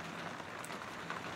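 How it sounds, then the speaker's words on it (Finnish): Rain falls steadily outside a window as a soft, even hiss of drops with a faint patter, continuous and moderately quiet, with no voices. "Tämmönen sää, eli sataa aikaa."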